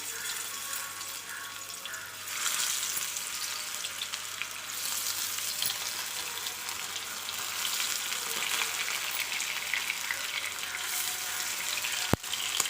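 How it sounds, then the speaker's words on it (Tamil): Fish frying in a pan over a medium flame, a steady close sizzle that grows louder after a couple of seconds, with a sharp click near the end and no voices. "இப்போ வந்து இந்த மீனை வந்து எடுத்து பேனில் வச்சுக்கலாம்"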